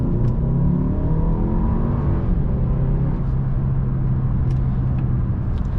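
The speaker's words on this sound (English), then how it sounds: "Nice second to third gear pull." A 2016 Audi A3 2.0T pulls hard through second into third gear, its engine droning and rising in pitch, then dropping briefly at the shift. Steady road and cabin rumble sits underneath, heard from inside with no talking.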